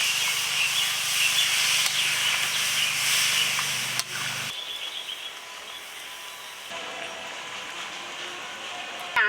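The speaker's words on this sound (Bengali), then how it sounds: "উষ্ণ জলটা দিয়ে দিচ্ছি" Warm water poured into a hot pan of fried potatoes, bursting into a loud, steady hiss of steam for about four seconds before settling into a quieter, fizzing simmer.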